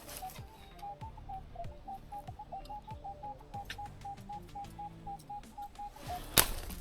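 An Equinox 900 metal detector sweeping in a forest while digging for coins, giving a repeated chirping tone over rhythmic soft scraping, with a sharp knock near the end.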